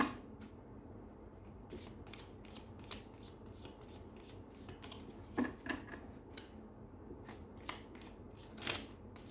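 A deck of cards is shuffled and cut up close, producing a run of crisp, repeated flicking snaps at an irregular rhythm over a quiet room background.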